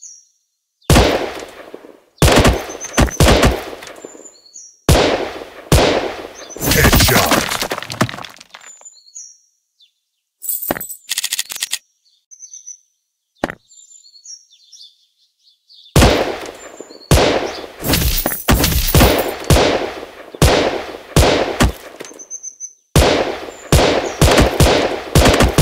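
Rapid bursts of automatic gunfire from the mobile shooter game Gun Sprint, loud and close, broken by short pauses, bright electronic chirps and quiet gaps between volleys.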